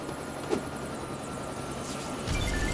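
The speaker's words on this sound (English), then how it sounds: "Really? You can fly a helicopter?" Helicopter flying in the video game Lego City Undercover, a steady whirring rotor drone held at an even level, with a thump near the start and a deeper rumble swelling toward the end.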